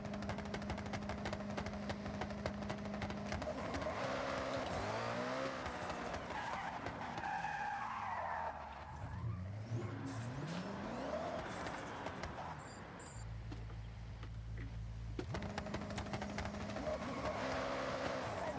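In a video game, a Koenigsegg One:1 performs a continuous tire burnout: engine note rising and falling, with tire squeal and skidding that run nearly nonstop at moderate distance.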